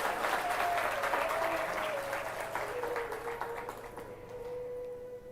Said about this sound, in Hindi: बस जोरदार तालियां से स्वागत करें।